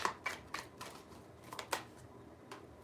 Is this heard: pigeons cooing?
no